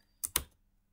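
Two quick, crisp keystrokes tap on a computer keyboard, faint and close, with silence before and after.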